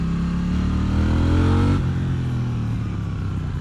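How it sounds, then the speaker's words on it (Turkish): A 2018 KTM Duke 790 motorcycle engine revs up with a rising exhaust note, then drops back as the throttle closes, the exhaust rumbling and crackling close by with no talk. "çok tatlı egzoz patlıyor"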